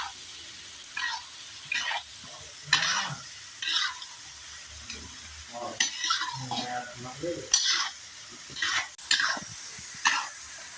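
Irregular metal scraping strokes as a skimmer stirs a large cauldron of mutton and rice, repeated every second or so over a soft background sizzle.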